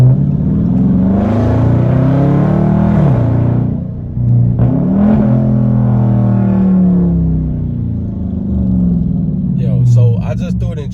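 2021 widebody Dodge Charger Scatpack driving and accelerating, its engine roaring loudly and rising in pitch through two hard pulls with a brief dip between them, heard close from inside the car.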